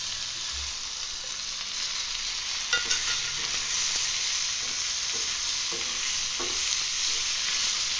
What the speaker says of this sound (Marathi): टमाटे पण थोडे भाजून घ्यायचे